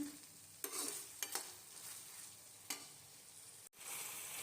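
Chicken jalfrezi frying in a pan: a steady, fairly quiet sizzle with a few sharp stirring scrapes, then a brief drop to near silence before the sizzle resumes.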